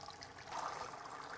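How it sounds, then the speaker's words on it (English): Warm water runs into a plastic food container that already holds a cup of bleach, a faint steady trickle and fill with a brief swell midway. "we are going to go ahead and fill it up with some water"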